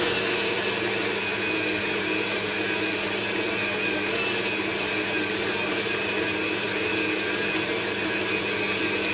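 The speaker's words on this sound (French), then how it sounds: "Et on va commencer à pétrir." A machine kneads cheese naan dough with warm water in a loud, continuous whirring drone, steady and close throughout with no breaks.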